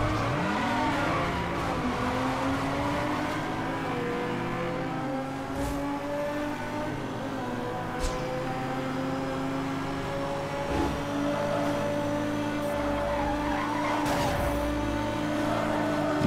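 Racing cars in Need for Speed Hot Pursuit Remastered scream along at full throttle, their engine tones sweeping up and down through gear shifts, with brief tire squeals and skids cutting through the steady loud drone.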